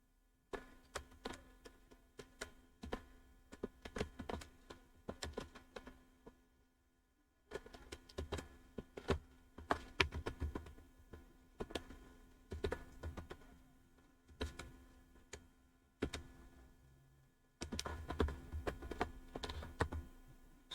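Bursts of fast typing on a computer keyboard, close crisp key clicks in runs of several seconds separated by brief pauses, alone with no voices.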